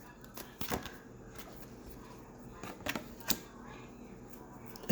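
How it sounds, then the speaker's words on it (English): Quick papery riffles and flutters of cards being shuffled, in a few short bursts over a quiet background, close by. "I'll do one more shuffle here."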